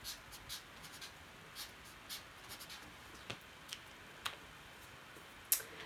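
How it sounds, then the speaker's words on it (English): A pen writes on paper, giving soft, quiet scratchy strokes in short irregular bursts with brief pauses between them, close up and with no talking. "So I'm going to write that on there. I'm going to write ha ha ha."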